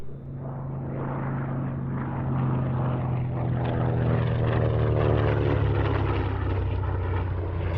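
A Grumman Avenger warbird flies past at an airshow, its big propeller engine a loud, steady droning roar that swells gradually as it approaches, with no voices heard.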